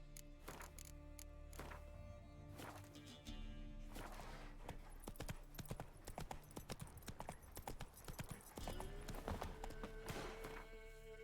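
Roach the horse's hooves clip-clop in The Witcher 3, a steady rhythmic trot of close hoofbeats over a soft tonal background, with no talk.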